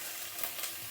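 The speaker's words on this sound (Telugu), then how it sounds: "నేను వేసేసుకుంటున్నాను. డ్రై రోస్ట్ చేసుకోవాలి." Whole cumin, cinnamon, cloves and cardamom dry roasting in a pan for a capsicum masala curry, a faint soft crackle and light scraping stir over a brief moment.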